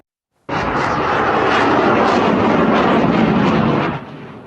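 A loud, sustained roar of jet aircraft engines passes overhead, steady and powerful for several seconds before cutting off, with no voices.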